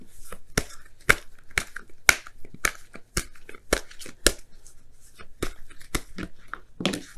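Oracle cards shuffled and pulled by hand: a steady run of crisp, sharp riffling snaps and slaps at close range, with short pauses between bursts.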